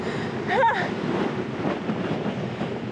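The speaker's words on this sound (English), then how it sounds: "I don't know if you can hear me because it's so windy." Gusty North Canterbury wind in New Zealand buffets the microphone with a constant rushing roar, and a voice briefly calls out over it.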